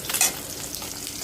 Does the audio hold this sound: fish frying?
yes